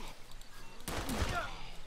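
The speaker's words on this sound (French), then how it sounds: "Attends, on va tester le flingue." A gun fires in the survival video game SCUM: a short, sharp burst of game gunfire breaks in after a moment of quiet, faint and briefly ringing.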